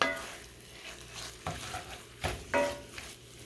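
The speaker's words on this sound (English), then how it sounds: "gonna stir the tomato paste" Tomato paste being stirred in a pan for a homemade meat sauce, a soft low sizzle broken by a few sharp scraping and clinking strokes of the spoon.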